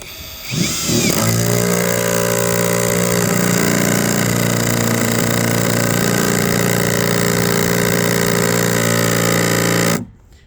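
A 12-volt cordless screwdriver strains as it drives screws, giving a loud, continuous motor whine with a rough grinding edge that starts abruptly, holds for about nine seconds, then cuts off.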